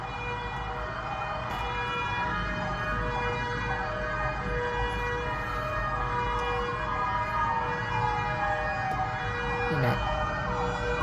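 An emergency siren wails continuously and loudly close by, its tone rising and falling, while someone talks over it.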